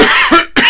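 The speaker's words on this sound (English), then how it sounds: "I never have this cough at any other time" A single short throat cough, close and loud, broken into two quick bursts with a brief gap between them.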